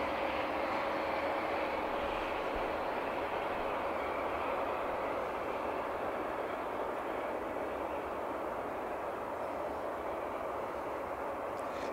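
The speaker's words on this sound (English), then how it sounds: "Got another train coming." A steady, broad rumble of a train rolling past at a distance, continuous and even throughout with no voices.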